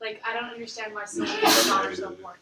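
A single sharp sneeze bursts out near the middle while a person keeps talking, close and fairly loud against the conversation.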